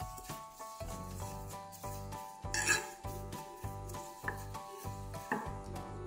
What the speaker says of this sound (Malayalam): ഇനി ഇത് നമുക്കിതൊന്ന് നന്നായി തന്നെ ഇളക്കി കൊടുക്കാം കേട്ടോ